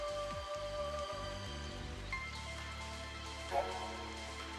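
Steady rain falls in the Final Fantasy XIII video game, a continuous hiss of drops with a low tonal hum and game music underneath, with no voices.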